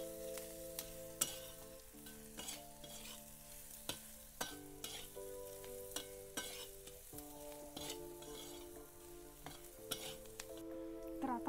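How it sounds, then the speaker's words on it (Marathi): Masala spices sautéing in a pan for a wild-vegetable dish, a steady sizzle broken by repeated sharp scrapes and clinks of a spoon stirring against the metal, with tonal hum lines throughout. "मसाला चांगला परतून घ्यायचा."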